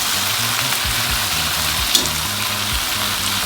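Eggplant being stirred with chilli sauce in a frying pan, a steady close sizzle and hiss of frying running throughout with a few soft scraping touches and one small clink partway through.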